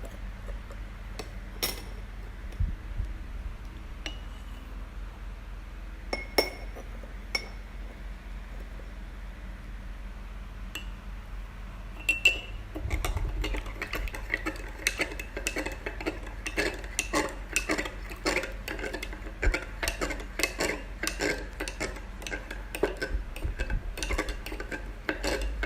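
A spoon scoops coffee powder into a glass of water during a chemistry practical, giving sparse light clinks at first, then a denser run of quick metallic ticks and taps against the glass.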